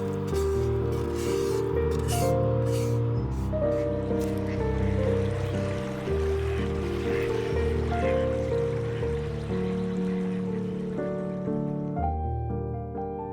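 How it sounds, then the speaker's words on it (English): Jasmine rice washed in water, with a steady sloshing, trickling and splashing of water running continuously at close range for several seconds, alone with no voices. "Wash jasmine rice until the water runs clear and drain."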